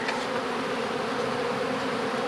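A dense, steady swarm of bees pours out of a shaken swarm trap, their buzzing loud, close and continuous throughout.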